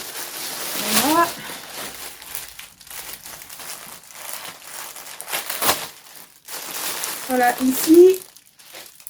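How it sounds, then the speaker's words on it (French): Plastic packaging crinkling and rustling as Wish parcels are unpacked, continuous handling noise close by, with a person talking briefly over it. "Je vais déballer les colis."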